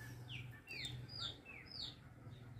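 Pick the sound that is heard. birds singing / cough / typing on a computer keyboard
birds singing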